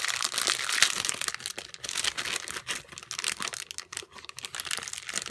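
Plastic wrapping on a pack of holiday note cards with envelopes, crinkled and torn open past a small sticker seal, with continuous close, loud rustling and crackling throughout.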